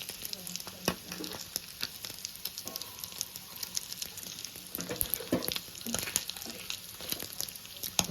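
Chanduva fish fry with curry leaves added to hot oil, crackling and sizzling with irregular pops and spits over a steady frying hiss, close up and without speech.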